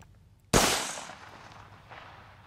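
A single loud gunshot from a large gun cracks sharply, then a long rumbling decay rolls on for about two seconds, with a fainter second report near the end, heard from a television clip.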